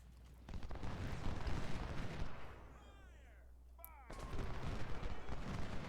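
Musket and artillery fire from the strategy game Ultimate General: Civil War rumble through a Union battle at Logan's Crossroads. Dense volleys roll continuously, ease off briefly with a whistling sweep, then surge back at full strength.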